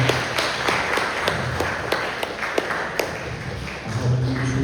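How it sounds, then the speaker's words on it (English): An audience at an Ethical Society history talk claps for panelists and moderators, a sparse and fairly quiet patter of individual claps with a few sharp, distinct hand strikes, and a low voice joining near the end. "Let's give both the panelists and the moderators a round of applause."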